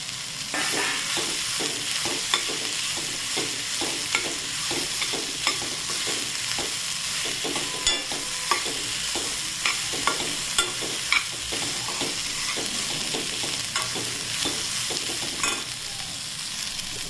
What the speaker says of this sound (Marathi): याला परतून घ्यायचं. यामध्ये हे मूग घालून घ्यायचे.